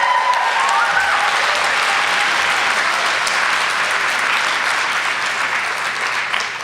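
A conference plenary audience claps loudly and steadily with scattered cheers, a dense wall of applause that holds throughout and fades only slightly near the end.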